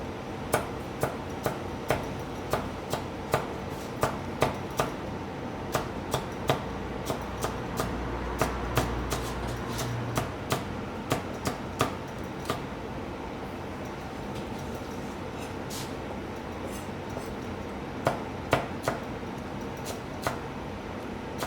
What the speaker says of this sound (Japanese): 新生姜も食べてもらいますので、 みじん切りにしていきたいと思います